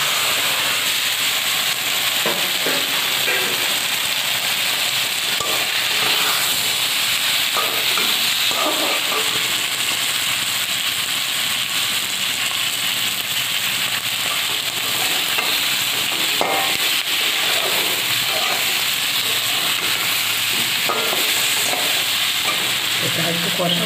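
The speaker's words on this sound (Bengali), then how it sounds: "এটা একটু কষাবো" Masala for a Bengali egg curry sautéing in a pan, a steady close sizzle and hiss running throughout with scattered stirring scrapes and clinks.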